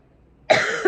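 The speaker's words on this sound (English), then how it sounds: "I can't get this cough to go away." A single cough bursts out after a brief quiet, then a smaller second hack follows, close and fairly loud, from someone fighting a persistent cough.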